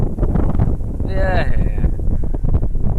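Strong wind high up in a tree buffets the microphone in a steady, rumbling roar, with a brief tonal whine partway through.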